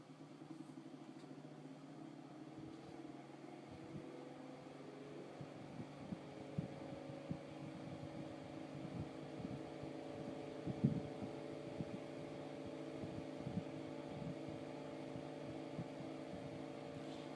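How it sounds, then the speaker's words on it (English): A single-speed Toastmaster 10-inch oscillating desk fan runs with a quiet, steady motor hum and a soft, uneven low throbbing rattle. "So I'll turn the fan on."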